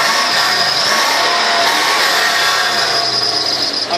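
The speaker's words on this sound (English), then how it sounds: "Not quite sure if you're going to be able to hear the burble coming from this V8" Steady, loud engine noise from a V8 Land Rover Defender 110 Country Edition, a continuous close burble with broad hiss running unbroken and with no talk.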